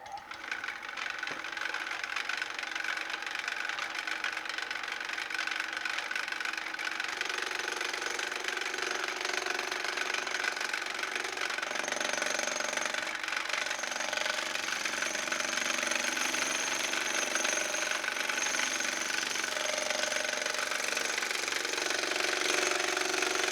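A WEN 3424 wood lathe spins a roughly 6-inch-diameter piece of wood at about 1400 RPM, holding a steady, continuous motor hum with a faint rough scraping texture throughout, no voices.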